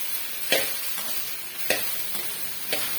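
Small cut pieces of okra fry in oil in a pan, a steady sizzling hiss broken by three sharp scraping stirs at regular intervals, close and with no voices.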